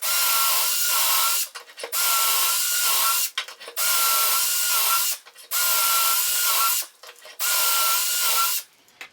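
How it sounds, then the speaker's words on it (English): A power drill bores dowel holes into wooden cabinet shelf stock, five loud, sustained grinding bursts separated by short pauses as the bit is withdrawn and repositioned. "the next thing is just to drill all the different holes"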